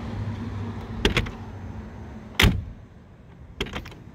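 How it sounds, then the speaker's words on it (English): A car door shutting on a 1955 Chevrolet Bel Air pro-touring build, heard as a couple of solid thunks spread over a few seconds over a low background rumble, close by with no talking. "Door shut so good."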